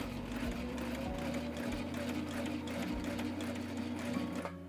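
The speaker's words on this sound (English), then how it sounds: "hold our loose thread ends back like so and sew another line of stitches" A sewing machine stitching a line, a steady rapid mechanical chatter with a low motor hum, close and continuous, stopping abruptly at the end.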